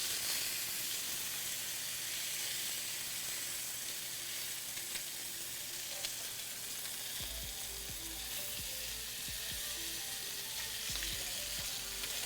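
Reverse-seared pork chops sear in a hot pan with a loud, steady hiss and crackle throughout, low thumps and scraping movements joining in the second half, no talking.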